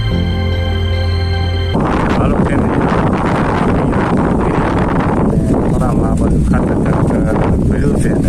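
Strong wind buffets the microphone in a farm field where a tractor is at work. The rumble is loud and continuous, with a voice speaking under the noise.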